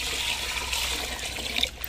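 Water running steadily over rice as it is rinsed in a home kitchen, a continuous close trickling and splashing wash with no talk.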